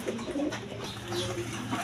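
A black pair of pigeons, male and female, coos softly in a repeated low rhythm close by, with faint background noise and no talk.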